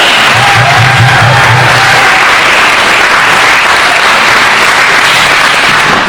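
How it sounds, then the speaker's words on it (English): An audience at a Healthy Heart workshop bursts into loud, continuous applause with some cheering, a dense wash of clapping that holds steady throughout while a brief voice rises over it early on. "Let's give a big round of applause to Dr. Moss"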